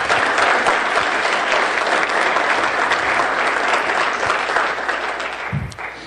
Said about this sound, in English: well, I appreciate that applause